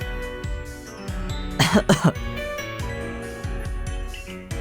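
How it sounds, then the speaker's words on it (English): A few short, rough coughs from a single character in the Pokemon Relict video game, close and clear, over a steady backdrop of game music. "Oh wow, he literally had a cough sound."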